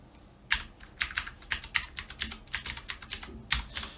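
Code being typed on a computer keyboard, close and quiet, with short clusters of crisp key clicks arriving at an uneven rhythm.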